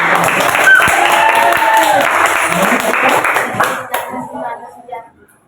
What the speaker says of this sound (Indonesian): Sudah tepuk tangan.